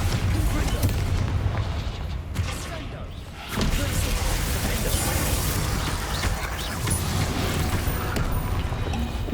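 Bombarda spell explosions in the Hogwarts Legacy video game, heard as loud, dense booming blasts that fill the scene, briefly dipping before continuing with rumbling impacts and debris.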